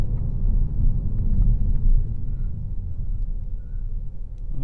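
A red 2022 Kia Stinger GT1 drives and accelerates, its low engine rumble steady and close from inside the cabin, swelling slightly midway before settling, with no voices.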